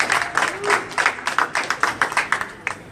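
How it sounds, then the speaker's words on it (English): Brisk applause from a small crowd at a wine club gathering, steady overlapping claps over about three seconds with a few voices underneath. "Just give him a round of applause."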